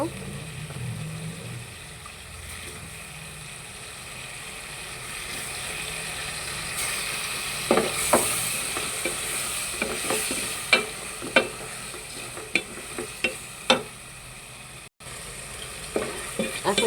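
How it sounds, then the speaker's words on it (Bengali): Small cut potato pieces frying in cooked spice masala for a greens dish: a steady soft sizzle, then from the middle a run of sharp scraping and clattering knocks from stirring, close and moderately loud. "আমি এখানে আগের থেকে ছোট ছোট আলু কেটে রাখছিলাম আলুগুলো দিয়ে দিব"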